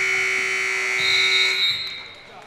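Basketball game buzzer sounding at the end of the first half in a high school gym, a single loud, steady electronic tone lasting about two seconds before fading out.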